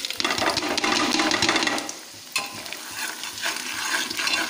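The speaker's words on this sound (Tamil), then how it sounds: "நீங்கள் எண்ணெயில் வதக்கணுங்க" Pepper chicken masala being stirred and fried in oil, Salem style, with loud close scraping and sizzling that dips for a moment midway and then builds again, no voices.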